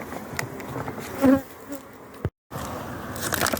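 Honey bees buzzing loudly and continuously around a beehive during a drought, close and dense, with a brief dropout near the end before the swarm hum resumes.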